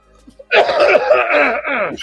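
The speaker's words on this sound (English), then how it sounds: "Because you made me laugh and I coughed." A person's coughing fit right after laughing: a fast run of harsh, close coughs over about a second and a half, a brief catch, then another burst. No words are spoken.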